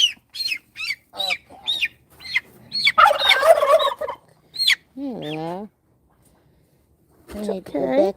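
Pet birds at a backyard coop, turkeys and chickens, gobbling and clucking in a run of short, close calls with a longer wavering gobble. A person talks intermittently between and over the calls.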